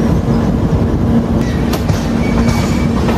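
The Mandovi Express runs between Mumbai and Goa through monsoon hill country, its loud, continuous rolling rumble close by, with a rhythmic clickety-clack of wheels on rails and faint squeals.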